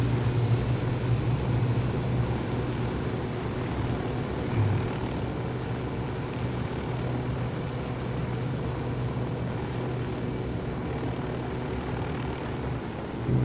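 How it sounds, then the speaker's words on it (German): An enemy helicopter in the video game Ghost Recon Wildlands gives a steady, droning engine and rotor hum that holds at an even level throughout, with no talking over it. "da ist ein feindlicher Helikopter"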